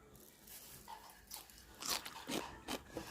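Crisp crunchy bites and chewing of a seasoned spring water parsley salad, a few quiet crunches building to several louder snaps near the end, close to the mic with no talk.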